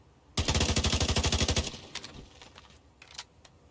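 Rapid automatic assault-rifle fire from a crit-focused build in The Division 2, a loud burst of about twenty evenly spaced shots over a bit more than a second, followed by a few scattered fainter single reports.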